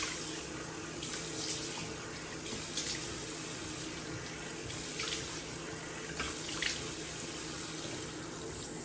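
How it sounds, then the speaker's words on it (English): A bathroom tap runs steadily while someone rinses their face with lukewarm water, a constant hiss of flowing water broken by a few louder splashes as hands scoop and splash. "And when I rinse my face"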